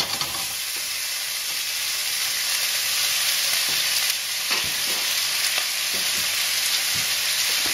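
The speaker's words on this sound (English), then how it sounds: "The chipotle chili is cooking there." Chipotle chili sizzles steadily in a hot pan, a continuous bright frying hiss with occasional soft stirring scrapes and pops close by, no voices.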